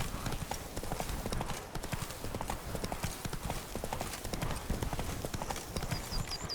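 Horses' hooves clip-clop steadily as knights ride in, in the Witcher 3: Blood and Wine game world, a dense continuous trotting rhythm at close range with a faint whinny near the end.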